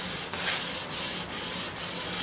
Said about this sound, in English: You just got to sand real lightly.